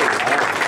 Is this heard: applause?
yes